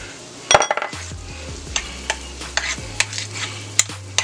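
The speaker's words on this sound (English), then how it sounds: "So we're going to go ahead and stir this up real good." Mashed potato filling being stirred in a bowl for twice-baked potatoes, with a series of close clinks and soft scrapes of a utensil against the bowl over a low background hum.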